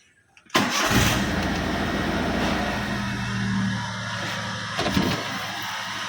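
A 2004 Daihatsu Xenia with a 1000 cc engine starts up and runs with a loud, rough, noisy idle, held close and steady for several seconds with a faint clatter.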